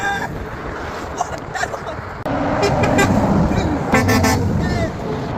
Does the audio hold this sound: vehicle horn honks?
yes